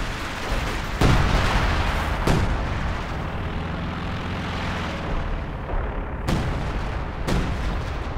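ISU-152 heavy artillery firing in the video game Company of Heroes 2, several booming shots a second or so apart over a dense, rumbling battlefield din, loud and close.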